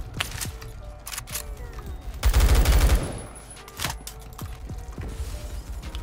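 Bursts of G36 rifle fire from Roblox Phantom Forces sound in short volleys, with a heavier sustained burst in the middle, over mechanical clicks and creaks of reloading and handling.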